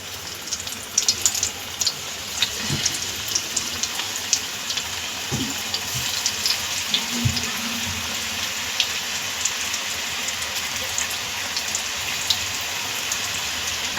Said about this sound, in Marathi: आता आपण हे पूर्ण गोल्डन ब्राऊन होईपर्यंत क्रिस्पी अशी तळून घेऊया.